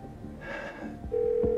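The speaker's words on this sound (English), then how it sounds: "It's ringing, Matthew." A steady electronic telephone tone starts after a soft rustle, sounding clear and close.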